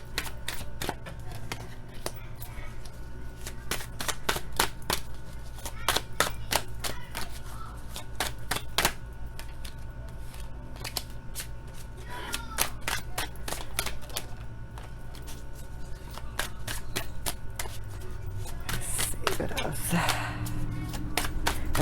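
Tarot cards are shuffled by hand in a rapid series of crisp riffling clicks, sharp and close, with pauses between bursts. A low hum runs underneath and a voice speaks briefly near the end.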